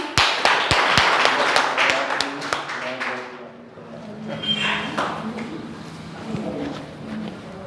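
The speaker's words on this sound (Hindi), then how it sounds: "इनके लिए दोबारा से ताली।" Clapping at a school result celebration, with loud sharp claps in the first seconds that thin out into softer scattered clapping and murmuring crowd noise.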